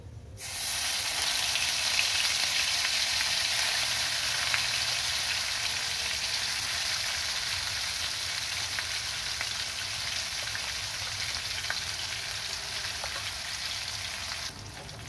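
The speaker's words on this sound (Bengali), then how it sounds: "এবার পেঁয়াজটা একটু ভেজে নেব।" Onion paste fries in hot oil with cumin, giving a loud, continuous sizzle and hiss that begins abruptly and holds steady for about fifteen seconds, close up, with no talking.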